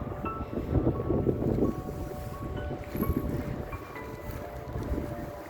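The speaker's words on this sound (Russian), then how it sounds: "В общем, тут тоже ветер." Wind buffets the microphone in gusts at a bus station in Grozny, a low rumbling roar with faint background hum and no voices.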